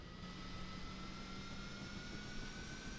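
Aircraft engine spooling up in Microsoft Flight Simulator 2020, a steady turbine-like whine with a rising tone over a broad rushing roar, continuous and even throughout with no talk.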